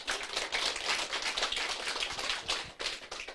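Applause from an audience at a Korean company presentation on a compensation plan, a fairly quiet patter of hand claps with uneven swells and a brief dip near the end.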